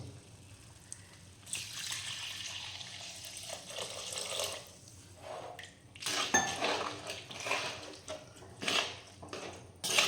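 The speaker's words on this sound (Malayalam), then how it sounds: "ഒരു ഗ്ലാസ് വെള്ളം ഒഴിച്ചു കൊടുക്കണം" A glass of water is poured into a pan of prawn and drumstick curry, with soft splashing and trickling bursts mixed with faint clinks of pot and utensil.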